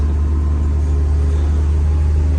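A digger's diesel engine runs steadily at idle, a loud continuous low rumble heard from inside the cab with no talk.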